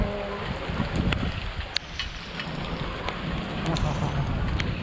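Steady rain falling outdoors during a hot-weather downpour, a dense continuous hiss with scattered drips and wind buffeting the microphone, lasting throughout with a few sharper splashes.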